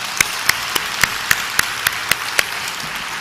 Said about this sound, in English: So I think he needs a round of applause.